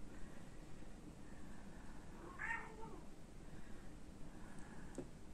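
A domestic cat gives a single short meow partway through, standing out over a steady low indoor hum; no one speaks.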